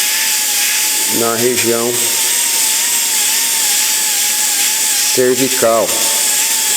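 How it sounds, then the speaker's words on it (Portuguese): A dental drill bur shapes a metal-ceramic crown preparation, a steady high-pitched whine running throughout, with a person speaking over it in two short bursts. "eu trabalho a pontinha da broca e essa ponta dessa broca que vai dando esse formato aí"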